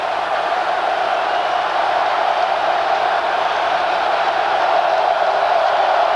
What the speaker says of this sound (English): the crowd in that end is starting to get into it